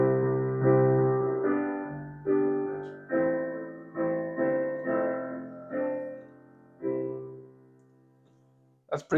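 Solo piano playing a song, steady chords struck one after another in a slow rhythm, each ringing out and decaying before the next, close and clear with no voices.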